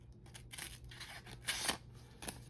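An Ozark Trail knife slices through a folded envelope three layers thick, giving several short rasping paper-cutting strokes, close and fairly soft against quiet background hiss.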